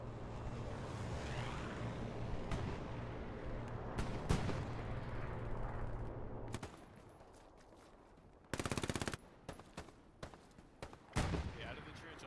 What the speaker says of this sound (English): Hey, heads up for a strafing run.